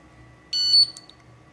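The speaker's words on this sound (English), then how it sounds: "Okay, got a beep." Beep from an Industrial Scientific Ventis Pro5 gas detector finishing calibration: a bright, near electronic tone of about a third of a second, followed by a couple of short chirps over a quiet room hum.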